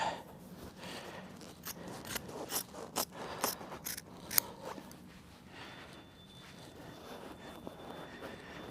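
Scissors snipping through upholstery fabric on a check-covered wing chair, a series of quiet, crisp cuts in an uneven rhythm close by, then fading to low room noise.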